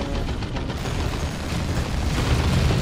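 Grenade blast in the Dawn of War II: Chaos Rising strategy game, a dense rumbling boom that swells and holds loud for the whole stretch with crackling debris, no talk.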